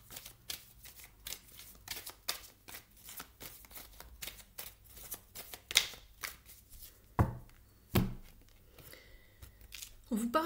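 Oracle cards are shuffled and drawn in a brisk, steady run of close papery flicks and riffles, with a few louder slaps as cards are laid down near the end.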